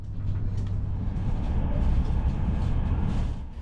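An Italian high-speed train runs along Europe's first high-speed line, heard from inside as a loud, steady low rumble with rolling track noise and no talking.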